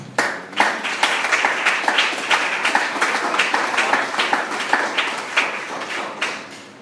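A church congregation claps in praise, a fairly close and rhythmic patter of many hands with distinct beats rising out of a steady wash, continuing for several seconds without talk.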